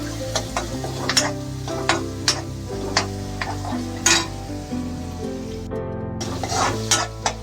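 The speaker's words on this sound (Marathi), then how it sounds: "कांदा थोडा भाजू दे चांगला." Chopped onion frying in a pan for a moringa and potato curry, a steady close sizzle with repeated sharp scrapes and clinks of a spoon stirring against the pan.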